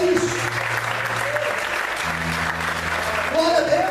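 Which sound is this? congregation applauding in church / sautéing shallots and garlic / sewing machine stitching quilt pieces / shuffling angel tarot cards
congregation applauding in church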